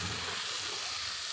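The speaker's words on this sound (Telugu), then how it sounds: "ఇప్పుడు ఇదంతా ఒకసారి దొండకాయలకు అంతా పట్టేలాగా ఇలా రోస్ట్ చేసుకోండి" Ivy gourd pieces roast in a pan with ginger garlic paste, producing a continuous soft hiss and crackle of sizzling, steady and fairly quiet throughout the brief moment.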